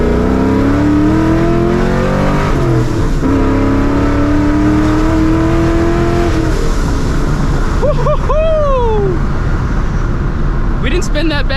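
A supercharged 2004 Mustang GT launches hard with wheelspin, its engine revving loudly and climbing through the rev range, then a gear change and a rising whine. The sound is close and continuous, with people talking over it.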